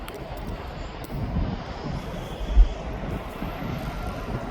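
A Ryanair airliner's engines drone steadily at East Midlands Airport, a broad continuous roar with a slight swell midway, heard alone with light wind noise.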